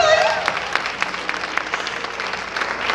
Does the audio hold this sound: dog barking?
no